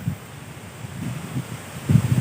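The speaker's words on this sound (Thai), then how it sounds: "ดูข้างหลังผมลมแรงมากเลย" Strong wind gusting outdoors in a Thai forest while hunting for a large weaver ant nest, low rumbling buffets rising and falling, with the heaviest gust near the end, no voices.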